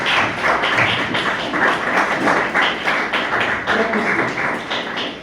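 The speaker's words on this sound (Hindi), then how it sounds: "और ललित जी के लिए एक बार जोरदार तालियां।" Steady, dense clapping from an audience at an empowerment training session, a fast rattle of many hands lasting several seconds with faint thumps mixed in, fairly loud and without speech.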